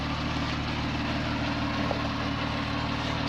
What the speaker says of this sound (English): you can hear that lovely flat 6 boxer engine purring away